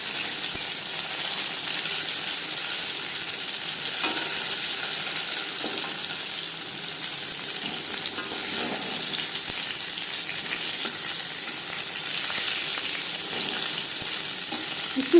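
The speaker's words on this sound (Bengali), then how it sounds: "হাই ফ্লেমে তেল আমি গরম করে নিয়েছি, ভাজবো মিডিয়াম ফ্লেমে।" Fish pieces fry in hot oil over a medium flame for a crispy fish fry, giving a continuous, even sizzle with small pops and no voices.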